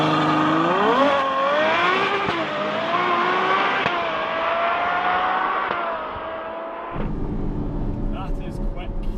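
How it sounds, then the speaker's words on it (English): Ferrari 812 Superfast V12 launching hard under launch control, its engine screaming up through the revs with gear shifts, loud and close from inside the car, then cutting to rougher road and wind noise. "we're going to try launch control in the Ferrari V12 Superfast."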